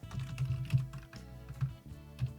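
Quick, uneven clicking of keys on a computer keyboard as someone types code, close and fairly soft, with a brief pause partway through and no voices.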